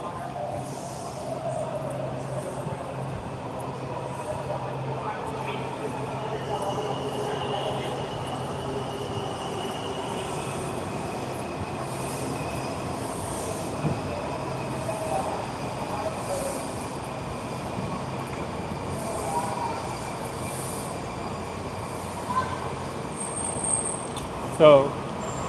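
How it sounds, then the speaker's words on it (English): A Green Line metro train at Gallery Place Metro Station gives a steady, continuous rumble and rail hiss through the underground platform, with faint murmuring voices and a few brief clanks near the end. "So this is the Gallery Place Metro Station. We're taking the green line."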